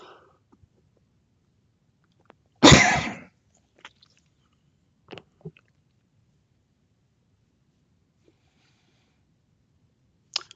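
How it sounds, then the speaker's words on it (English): A single short, sharp cough bursts out close to the microphone in an otherwise quiet room, followed by a few faint clicks and small mouth noises. "Oh, I need a cough."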